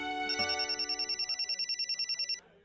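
A phone rings with a rapid electronic trilling pulse, steady and fairly loud, then cuts off abruptly near the end.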